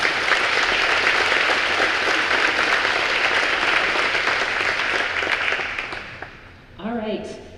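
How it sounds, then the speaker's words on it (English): A concert audience applauds choir representatives at a high school spring pops concert, steady dense clapping filling the room for about six seconds before fading, then a voice speaks briefly at the end. "Can you give them a round of applause?"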